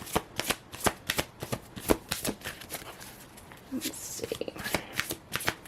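A deck of tarot cards is shuffled with repeated quick riffling flutters, close and crisp, with a voice speaking briefly partway through.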